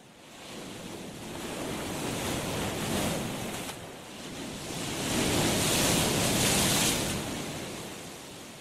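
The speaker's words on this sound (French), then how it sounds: "Elle pouvait entendre le fracas des vagues toutes proches." Ocean waves crash close by in a steady roar that swells twice and then eases, with wind over the surf and no other sounds.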